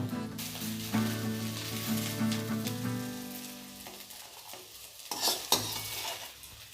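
Vegetables fry in oil in a pan for chire bhujiya and get stirred: a steady hissing sizzle with a low hum under it at first, then a thinner crackle with a few sharp scraping clicks. Close by, no voices.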